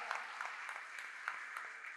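Steady applause from a church congregation during a nine-day festival Mass, a dense continuous patter of many hands with no talk over it.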